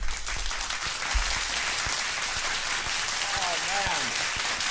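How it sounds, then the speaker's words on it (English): Talk-show studio audience applauding and cheering a guest, a UFC commentator, with dense steady clapping throughout and a few voices calling out over it. "A round of applause for our guest, Mike Goldberg."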